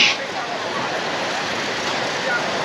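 Steady surf washes onto the beach at Cox's Bazar in the evening, a continuous broadband rush of breaking waves heard close and moderately loud with no clear individual wave crests.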